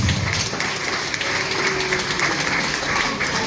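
Parents applaud at a school graduation ceremony for children moving from basic to primary school, steady crowd clapping filling the whole stretch at a fairly loud level.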